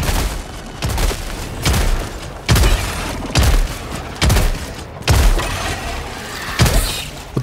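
The Punisher shotgun in Helldivers 2 fires as loud, heavy blasts, about eight of them spaced roughly a second apart, each with a booming thump and a short tail.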